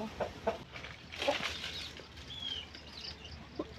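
Chickens cluck softly and intermittently at a nest on a small farm, a few short close calls spaced irregularly against quiet background.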